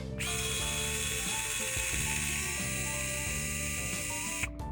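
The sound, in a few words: undoing a screw with 1.5mm hex driver on TRX-4M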